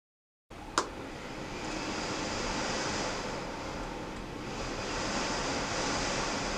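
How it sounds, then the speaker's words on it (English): Wind blowing hard outside, a steady broad rushing roar that starts abruptly after a short silence with one sharp knock near the beginning, continuing unbroken at even loudness. "If y'all hear that wind, like, oh my gosh, that's how it was all night."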